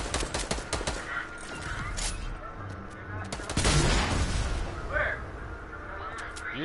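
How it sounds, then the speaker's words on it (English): Rapid video game gunfire crackles in dense bursts in a shooter match, loud and close, with further scattered shots and game effects layered over the action. "They shooting at me."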